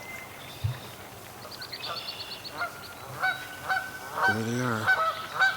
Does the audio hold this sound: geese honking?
yes